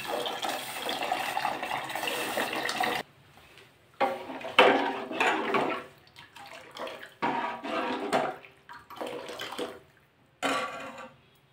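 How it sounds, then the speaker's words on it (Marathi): Water pours and splashes into a pot of cooking amti (lentil curry) in several bursts, starting with a long pour, then shorter splashes separated by brief pauses. "याच्यात मी अजून पाणी घालत आहे."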